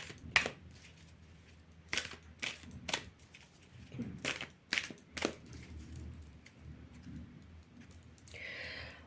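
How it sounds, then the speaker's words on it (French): Tarot cards shuffled and drawn by hand, a series of sharp riffling flicks and slaps near and fairly clear, ending in a softer rustling swish. "Je vous fais le tarot de Madame comme Dame et je vais tirer 13 cartes aujourd'hui"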